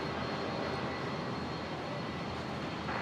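A QantasLink Dash 8 turboprop takes off from runway 01 left at Brisbane Airport, a steady, loud, broadband engine roar that holds continuously throughout with no voices.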